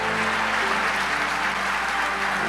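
A church congregation applauds steadily, dense sustained clapping filling the room at full volume throughout, with no break or single voice standing out.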